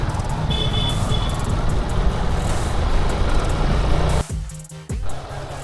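Heavy trucks and auto-rickshaws roll along a rain-soaked road with speed breakers, a loud close rumble of engines and tire hiss that drops briefly near the end, with no talk over it.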